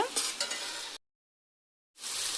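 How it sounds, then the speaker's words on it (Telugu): Ginger garlic paste frying in hot oil in a pan, a steady bright sizzle that cuts out to silence for about a second, then resumes. "ఇది ఇప్పుడు బాగా ఫ్రై అవ్వనివ్వాలండి"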